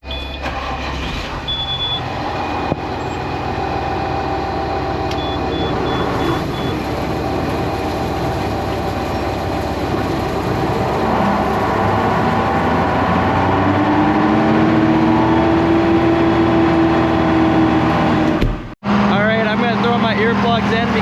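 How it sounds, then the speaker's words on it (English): Farm blower tractor firing up to blow corn for cow feed: a loud, continuous engine drone with rising mechanical whine and rumble, steady throughout, with a brief dropout near the end. "now we're gonna fire up our blower tractor"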